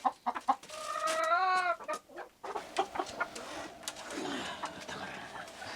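Native hens in a cold winter farmyard where the water has frozen: a few short, close clucks, then a longer, drawn-out rising call, followed by scattered softer clucking and rustling.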